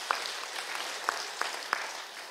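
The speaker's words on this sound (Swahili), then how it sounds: "Tumpigie gavana makofi" Applause for a governor at an ACK church gathering in Kiambu, heard as a steady broadband wash of clapping with a few sharper individual claps standing out, moderately loud and with no talking.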